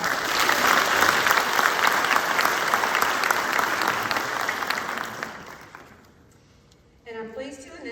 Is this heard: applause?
yes